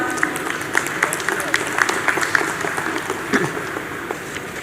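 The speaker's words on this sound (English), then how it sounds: "Please welcome her warmly with a round of applause." Warm audience applause at a university convocation ceremony welcoming a speaker, a broad sustained clapping from a large hall crowd with individual claps standing out, continuing steadily to the end.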